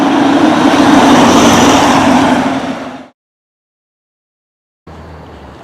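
A Hummer drives with a loud, constant roar of engine and road noise that suddenly cuts to silence, then a quieter rumble returns briefly near the end.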